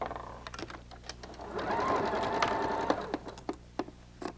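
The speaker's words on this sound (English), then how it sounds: "we can sew right off onto our starter scrap" A sewing machine runs in a steady whirring burst while chain-stitching quilt pieces onto a starter scrap, framed by sharp clicks and taps from fabric handling before and after, close and clear with no talking.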